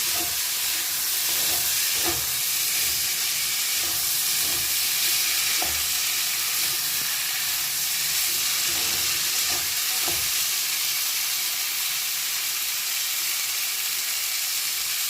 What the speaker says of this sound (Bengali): মশলাটা ভালো করে কষে নিই